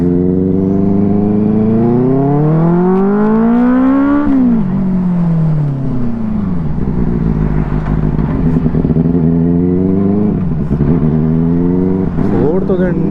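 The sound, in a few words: Benelli 600i motorcycle engine revving at high RPM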